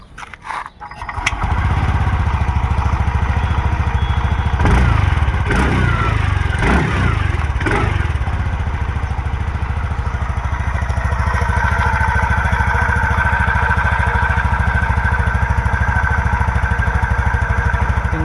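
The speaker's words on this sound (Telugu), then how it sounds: "ఇంజన్ సౌండ్ అయితే చూసాం కదా" A TVS Jupiter Elite Green scooter engine catches after a short start-up and settles into a close, steady idle. A few quick throttle blips swell the note before it returns to an even running hum.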